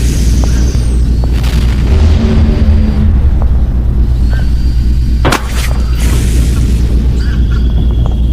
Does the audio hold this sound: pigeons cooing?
no